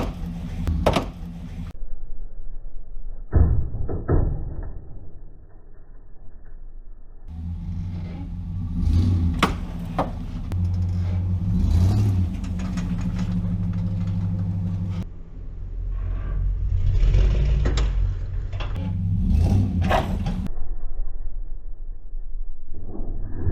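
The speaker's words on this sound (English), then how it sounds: "I'm going to yank it pretty hard with the F-150, each side separately" A Ford F-150 pickup yanks a wrecked Cadillac Deville's bent front end straight, with repeated rumbling engine revs and surges, heavy low-end strain and occasional sharp metallic clanks, no voices.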